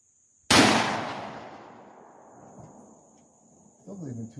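A single loud gunshot from a firearm at an outdoor shooting range cracks sharply and then decays into a long fading echo, with a faint steady high hiss running throughout.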